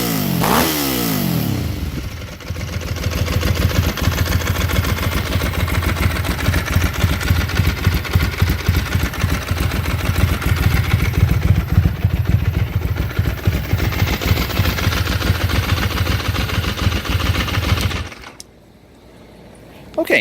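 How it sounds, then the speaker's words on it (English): A 2005 Ducati 999 Superbike engine starts with a rising rev, then holds a loud, steady, rumbling idle with mechanical clatter for most of the stretch before cutting off near the end. "I'm going to go ahead and rev it."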